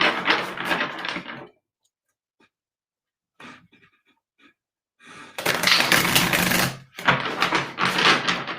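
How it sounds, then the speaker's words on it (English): Tarot cards shuffled by hand, close crisp riffling bursts separated by a quiet gap with a few faint taps, then louder rapid flutters toward the end. "I'm gonna shuffle really quick."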